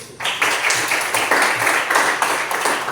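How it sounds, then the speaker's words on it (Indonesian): A class of students claps hands together in a mathematics lesson, a loud, dense burst of clapping that starts abruptly and continues steadily close to the microphone. "Oke, tepuk tangan dulu"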